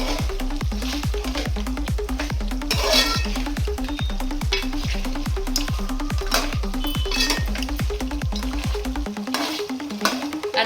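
Lemon pepper chicken fries in a pan while a utensil stirs it in a fast, regular rhythm of scraping strokes over continuous sizzling, close and loud throughout.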